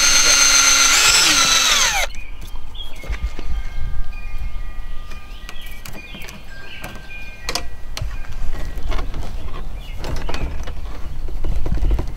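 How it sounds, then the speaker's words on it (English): A power drill whines loudly and close for about two seconds while drilling holes in a Hobie Pro Angler kayak, then stops, leaving quieter handling noises and faint background sounds. "we're gonna drill holes here, which we're gonna do in a second"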